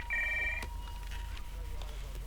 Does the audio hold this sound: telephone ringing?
yes